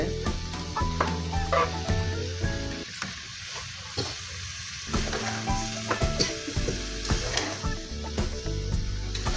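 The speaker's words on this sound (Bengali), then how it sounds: "বেগুন আর আলু দিছে কড়াইতে" Aubergine and potato pieces fry in hot oil in a wok, giving a dense, continuous sizzle with scraping and clinking from the stirring utensil, loud and close throughout.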